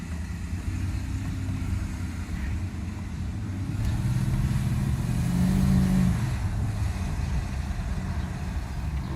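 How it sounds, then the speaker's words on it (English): A Mercedes S600 held in first or second gear while warming up, its engine running with freshly rebuilt throttle bodies. The steady, fairly loud rumble swells slightly midway and continues without talk. "so the vehicle is going to remain in second gear, first gear until it warms up a little bit."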